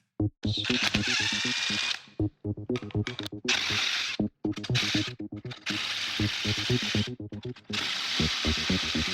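Power tool spinning out six CV bolts from an aluminum hub, loud whirring bursts of ratcheting drive separated by short silences, repeated in stop-start runs.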